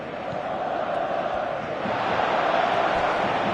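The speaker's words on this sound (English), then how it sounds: "Crowd appreciates good football all round there." A stadium crowd in a PS4 football video game roars in a broad, sustained murmur that swells slightly toward the end, dense and continuous with no clear single voices.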